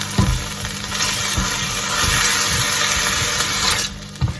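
Diced onions and red peppers frying in a pan while being stirred, a steady broadband sizzle running throughout with scattered scraping knocks of the utensil against the pan, loud and close, no talking.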